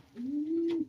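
A young inbred racing pigeon gives one close, clear coo that swells into a smooth, steady, low hum and ends in a short throaty roll, with faint rustling around it.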